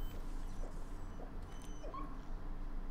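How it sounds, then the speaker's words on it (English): Dog whimpering inside a building in Splinter Cell Blacklist, as short soft yips and whines over a steady low game background hum. "Alright, now the dog's in here."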